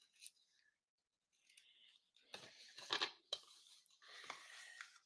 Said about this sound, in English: we can trim off that gorgeous ribbon